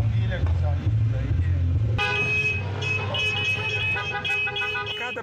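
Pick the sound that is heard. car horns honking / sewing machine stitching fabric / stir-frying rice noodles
car horns honking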